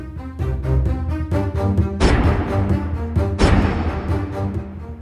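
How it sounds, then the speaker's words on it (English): Pirate ship cannons fire in a cartoon-style effect: two loud, sharp booming blasts with crashing noise, set over a rhythmic musical background and close up. "He immediately ordered the men to fire the cannons."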